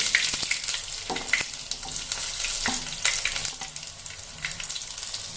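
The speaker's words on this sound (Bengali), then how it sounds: "সবকটি আমরা ভেজে নেব" Coriander leaf fritters deep-fry in oil with a close, busy crackle and rapid popping spatters over a continuous sizzle.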